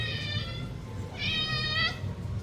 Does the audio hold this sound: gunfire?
no